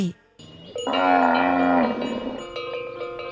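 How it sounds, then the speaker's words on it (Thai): Cattle low loudly while hollow bells clank and ring in an uneven rhythm nearby. "เสียงโปงที่แขวนอยู่บนคอวัวควาย ดังกระทบกันเป็นจังหวะ"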